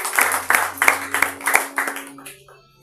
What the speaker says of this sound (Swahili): Pigie Bwana makofi mazuri.